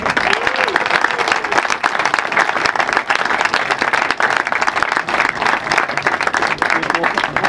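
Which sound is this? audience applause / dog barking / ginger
audience applause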